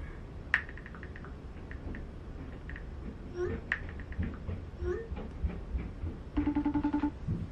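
A telephone rings in a room while a phone call is about to be picked up, its electronic ring tone repeating briefly and near over a background of murmured talk and room noise.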